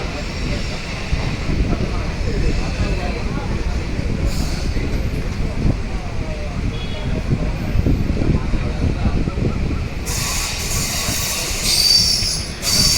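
A train rolls slowly along the rails with a steady low rumble, wheels squealing and screeching faintly at times, growing brighter near the end.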